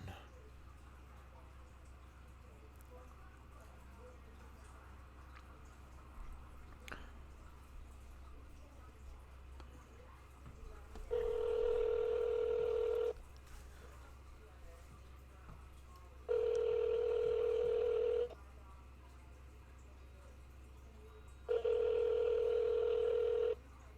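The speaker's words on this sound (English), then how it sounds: "So I'm gonna call this guy, and Jim." A phone call rings out on the line after dialing, giving three long, evenly spaced ring tones over a steady low hum with quiet gaps between them. No one talks.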